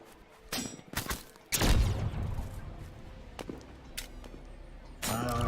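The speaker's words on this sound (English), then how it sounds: "Hearing a lot of gunshots behind me too" Gunfire erupts behind the player in the video game The Signal From Tolva: scattered sharp shots and a heavy boom, some close and some further off, over a low ambient rumble.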